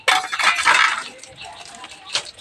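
A metal lid is set onto a cooking pot of chicken curry, giving a bright clattering rattle, then a short quieter clink a moment later, close by.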